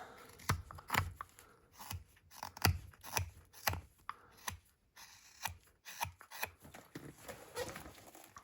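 A knife carving a wooden Santa figure, paring off a corner in repeated short scraping and slicing strokes, quiet and close, in a steady uneven rhythm with no talking.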